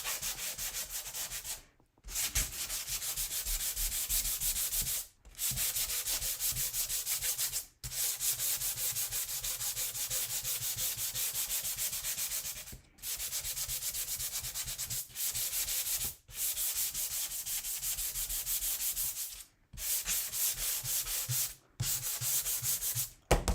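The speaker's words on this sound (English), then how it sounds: "I just want to sand it smooth because we're going to put a transfer down" Wood surface being sanded smooth by hand in preparation for a chalk transfer, a steady close scratchy rubbing in long strokes, broken by a few brief pauses, with no talking.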